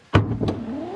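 Power tailgate on a 2021 BMW X3 M40i set in motion from the remote, opening with a sharp thump followed by a rising electric motor whine that continues to the end.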